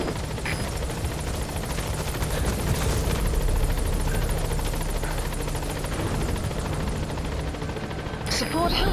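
A helicopter arrives in Metal Gear Solid V: The Phantom Pain, its rotor beating in a continuous close, loud drone with radio voices speaking over it.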